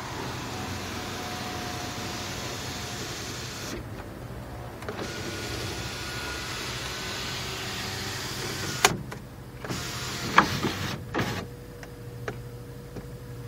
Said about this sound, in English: Let's go ahead and open up the power sunroof.